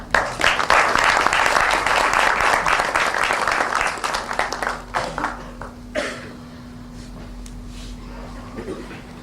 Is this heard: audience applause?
yes